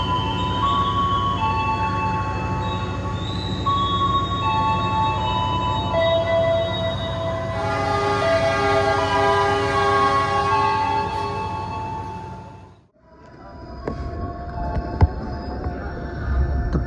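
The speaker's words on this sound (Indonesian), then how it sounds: "kereta api komuter lain Supas Pro berangkat dari stasiun Probolinggo" A Supas Commuter Line train pulls out of Probolinggo station with a loud sustained tonal whine and rumble that shifts in pitch, cuts out sharply near the end, then returns more faintly.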